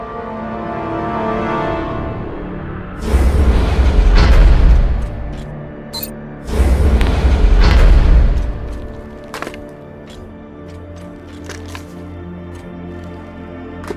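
Two heavy explosions tear through a target in a sci-fi space drama scene, each a deep booming blast lasting a couple of seconds, loud and close, followed by crackling debris and a fading low rumble.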